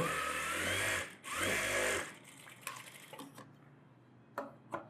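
A sewing machine runs in two loud close bursts while stitching a net blouse without ironing, followed by scattered clicks and handling noises.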